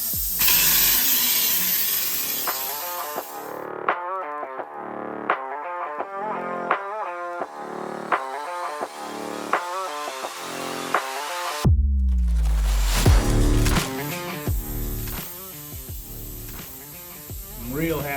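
A spray gun applies bed liner to the body of a 1979 Bronco in a bodywork area, sounding as loud close hissing bursts. Short rhythmic sprays break the hiss in the middle, and a long steady spray follows.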